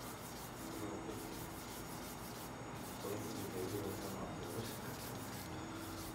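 Soft, steady rubbing of sandpaper on a wooden billiard cue in repeated strokes, close and quiet, with a gentle rhythmic swish and no voices.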